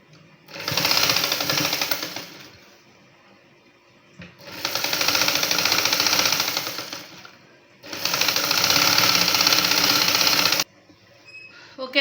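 A sewing machine stitches the side seams of a dress coat in three long, steady motor runs separated by short pauses, loud and close with no talking.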